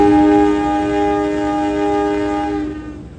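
KA Kutojaya Selatan passenger train sounding a loud sustained horn as it departs, near and strong, fading at the end.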